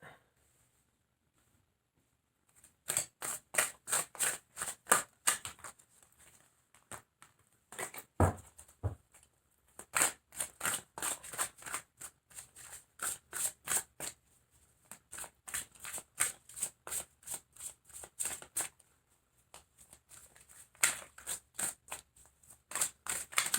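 Tarot cards shuffled by hand in quick repeated bursts of crisp riffling and slapping, close and fairly loud, with short pauses between runs and no talk.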